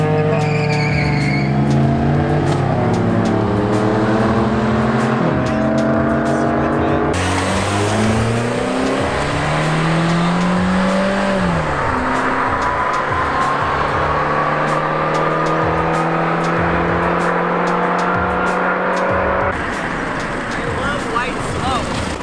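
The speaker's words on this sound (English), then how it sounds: "Car sounds like it's dying though" A Mitsubishi 3000 GT engine revs and runs hard in a street setting, with rising and falling pitch sweeps, tire noise and loud, rough engine tones throughout, under occasional voices.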